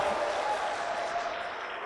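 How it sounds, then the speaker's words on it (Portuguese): Church congregation applauding together, a steady dense wash of clapping that holds evenly for about two seconds with a faint voice tone running underneath. "dê um aplauso a Ele e libere um grito de liberdade"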